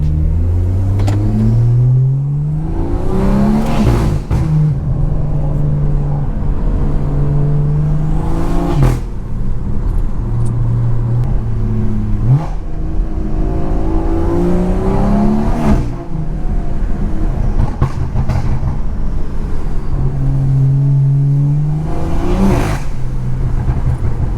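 BMW 340i launching and revving hard on a wet road in the rain, engine rising and falling through several loud pulls with gear changes, steady rain and road hiss underneath, close and continuous.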